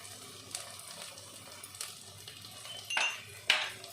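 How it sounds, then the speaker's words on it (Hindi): Masala fries in oil in a pressure cooker for an Odia-style mutton and potato curry, giving a low, steady sizzle broken by a few sharp metallic scrapes and clinks of a spoon against the pot. "एबे फ्रेंड्स देखुथिबे आमर मसला रु तेल छाड़िलाणी माने आमर मसलाटा भाजी हो जाइछि भल भाबे।"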